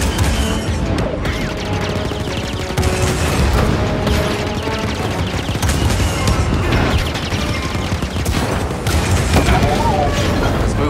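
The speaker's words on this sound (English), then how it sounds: "So that fires the cannons." Heavy cannon fire in the Star Wars Jedi Fallen Order video game: repeated loud booming blasts and crashes over a dense, continuous battle din, with faint voices mixed in.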